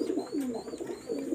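Red-necked Khulna pigeons coo softly nearby in a short burst of rolling, throaty calls with no other sounds.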